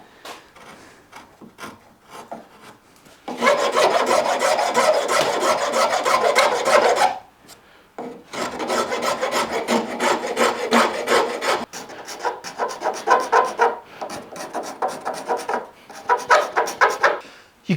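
Steady rasping of a file or rasp across the wood of an SG guitar neck being shaped by hand, in long loud bursts of back-and-forth strokes broken by short pauses, close up with no talk.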